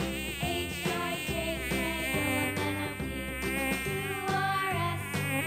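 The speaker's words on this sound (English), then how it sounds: "M for mosquito." A mosquito's thin, high-pitched buzz whines steadily for a few seconds over a bright, tonal children's-song backdrop, with no talk.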